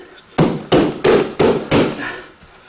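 Five sharp hammer strikes at an even, steady rhythm, loud and close, alone without talk, while restretching a canvas.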